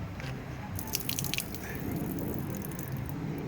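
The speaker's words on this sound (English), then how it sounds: "All that water has made its way into the intake." Water drips out of a flooded car engine's intake, with soft irregular drops and small splashes close by over a low, steady background hiss.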